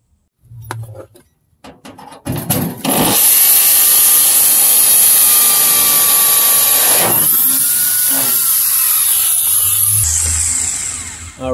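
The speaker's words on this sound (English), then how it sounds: "make sure your drill is switched to the hammer setting" A loud hammer drill on hammer setting grinds steadily into concrete for about eight seconds after a few clicks and bumps, then winds down.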